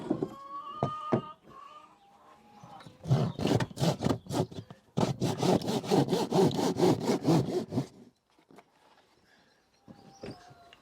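A hand saw cuts into a roof in bursts of rapid back-and-forth strokes, loud and close, with a short pause between two runs and quieter scraping before and after.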